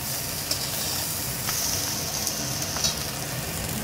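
Chicken and prawn fried rice sizzles steadily in a hot pan as it is stirred. An even, hissing fry runs throughout, with a few faint scraping clicks from the stirring.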